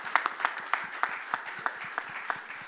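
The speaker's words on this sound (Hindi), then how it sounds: "एक बार तालियां जोर से बजेगी तभी बताऊंगा" Applause from an audience at a fashion retail forum event, heard as sparse rhythmic claps, roughly evenly spaced, with few hands joining rather than a full loud ovation.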